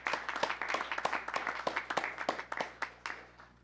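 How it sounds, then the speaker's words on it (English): Scattered claps from a small council meeting audience: sparse, distinct hand claps in an uneven rhythm, fairly quiet and close, thinning toward the end. "You want to give them another round of applause?"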